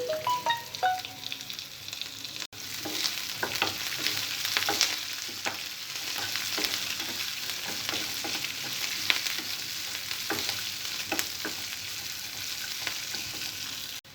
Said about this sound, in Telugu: సన్నగా కట్ చేసిన ఉల్లిపాయ ముక్కలు, కరివేపాకు వేసుకోవాలి.